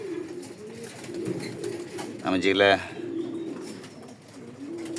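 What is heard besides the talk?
racing and breeding pigeons cooing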